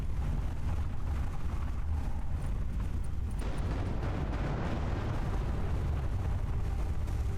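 Deep rumbling booms of explosions in the video game Everspace 2, dense and continuous, with crackling debris layered over a low roar.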